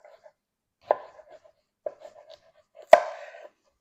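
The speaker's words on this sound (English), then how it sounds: "Next I'm going to chop the cucumber." A knife chops a cucumber on a cutting board for shrimp ceviche, making three distinct sharp thunks spaced about a second apart, each followed by faint softer taps, close and quiet between strikes.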